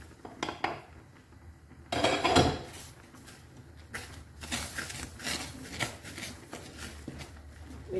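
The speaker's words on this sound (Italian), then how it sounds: "Andiamo a buttare i nostri 200 g di farina tutto di un colpo." Flour is stirred into boiling water in a pot for gnocchi, giving quiet scraping, clinking and knocking of a utensil against the pot at an uneven rhythm, with a louder burst of clatter partway through.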